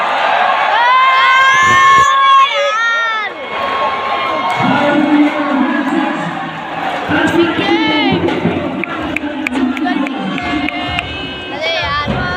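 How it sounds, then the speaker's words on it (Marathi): A cricket stadium crowd claps and cheers, with loud shouts and whistle-like cries at first, then a sustained roar of applause and babble, and nearby voices talking throughout. "टाळ्या वाजल्या"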